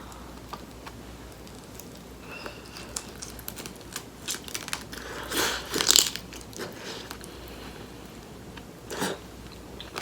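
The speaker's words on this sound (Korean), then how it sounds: "이것도 그냥 한번 먹어볼게" Close, quiet chewing and biting of food with a few crunchy bursts near the middle over a low background hiss, and no talking.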